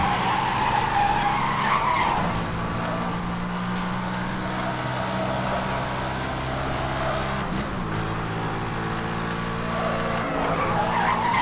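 Cars skidding and accelerating in the racing game Need for Speed: Hot Pursuit (2010), a steady loud engine drone with tire screech sweeping through it, pitch dipping and climbing again as the car slides and speeds up.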